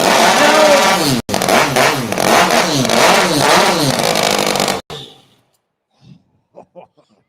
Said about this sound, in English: A wankle rotary engine.